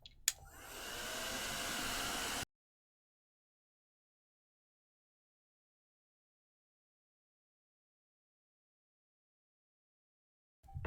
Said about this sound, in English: I still can't believe I had to go home and get a hairdryer